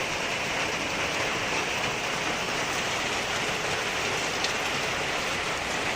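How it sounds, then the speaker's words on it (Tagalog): Downpour of heavy rain at a farm, a constant loud roar of falling water with no pauses and no voices, even and dense from start to finish. "Malakas pa rin yung ulan."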